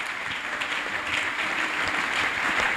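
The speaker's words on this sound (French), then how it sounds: "Nous pouvons acclamer pour cette parole." A church congregation breaks into sustained applause, a dense continuous clatter of many hands clapping at close range with no talk.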